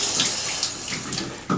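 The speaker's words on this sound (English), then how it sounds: "put the water on" A bathroom water tap runs into a sink, a close steady splashing flow lasting the whole moment, with no voices over it.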